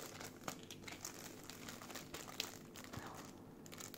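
Steady close crinkling and rustling of plastic packaging as a remote control for a Beelink GT King Android TV box is unwrapped, quiet and continuous with no talk.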